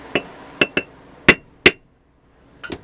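Metal punch tapped into a lightweight metal lamp shade for a gas torch lamp, five sharp, ringing metallic strikes at uneven intervals, close and clear, then a quick faint double tap.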